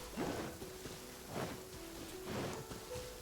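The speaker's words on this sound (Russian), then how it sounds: "If this rain keeps up, my fur will be dripping wet." Steady rain in the Genshin Impact game world, a continuous soft hiss of falling water with faint swells, heard alone with no voices and a few quiet tonal game sounds underneath.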